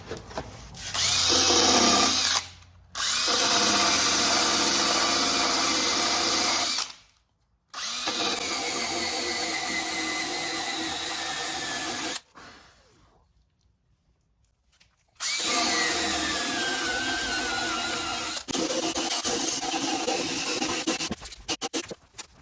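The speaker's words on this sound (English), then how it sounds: "the first step is to sand this bad boy down to bare metal" Power sander grinding a dented motorcycle gas tank down to bare metal, loud steady whine in long bursts broken by short pauses, with no talking.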